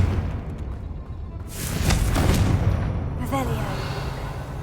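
Confringo blasting spell in the Hogwarts Legacy video game, a heavy booming explosion with a rumbling roar that swells and lingers, under and after a shouted voice.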